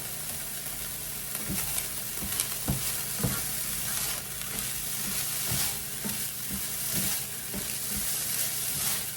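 Onions frying with diced ham in a pan for breakfast fried rice, a continuous hiss of sizzling fat with frequent spoon clatters and stirring scrapes throughout, close and fairly loud.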